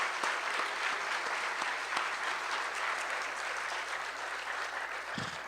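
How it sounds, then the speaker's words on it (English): An indoor summit audience applauds a panel of elected officials with a steady, full round of clapping that lasts the whole stretch at an even loudness. "let's give all of our elected officials a great round of applause"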